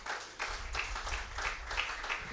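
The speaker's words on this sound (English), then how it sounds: "Allow me to kindly request you to give a round of applause for our panelists" Conference audience applauding the panelists at the close of a session, a dense, sustained patter of many clapping hands at moderate loudness with faint rhythmic swells.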